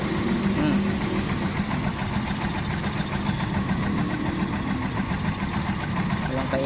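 A Honda TMX 155 motorcycle engine idles steadily and fairly loud after carburetor cleaning, a continuous rumbling chug with no breaks.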